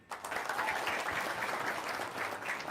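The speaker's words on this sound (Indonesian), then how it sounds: "Tepuk tangan." A seated gathering at a religious talk bursts into applause, a brief, dense patter of many hands clapping at moderate distance, steady for a couple of seconds.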